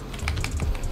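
Computer keyboard keys clatter in quick irregular taps while F1 2021 is played on the keyboard, close and fairly loud with faint low game engine rumble beneath.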